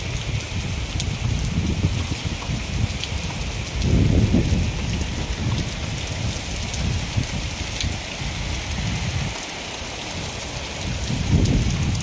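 Steady rain pours down in a loud, continuous broadband hiss, with slight swells in intensity and no voices over it.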